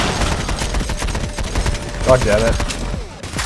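Dense, continuous gunfire from the heist shooter Payday: The Heist rattles loudly throughout, with a man briefly cursing over the shots.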